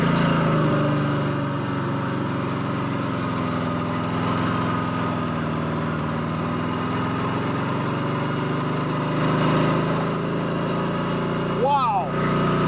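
A 1954 Harley-Davidson FH 750 motorcycle pulls away in first gear, its steady mid-pitched engine drone running close and continuous throughout, with a brief squeaky sound near the end.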